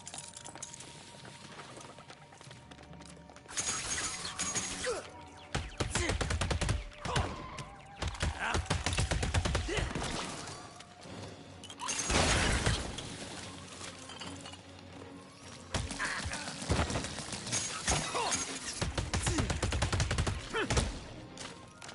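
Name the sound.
gunfire in the video game LEGO Batman: Legacy of the Dark Knight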